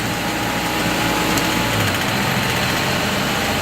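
A vehicle with a 47-48RH automatic transmission runs steadily in third gear at raised RPM with the torque converter lockup engaged, producing a continuous, even engine drone and hum with no talk over it.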